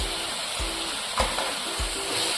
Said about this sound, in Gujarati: હવે ધીમા ધીમા એને સાતળવા દઈશું